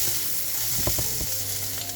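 Butter browns in a frying pan with a close, continuous sizzle and a few soft crackling pops, heard alone and without talk.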